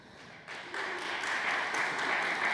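Audience applause at a community gathering, clapping swelling in from quiet to a sustained patter, moderately distant and fairly soft, brief.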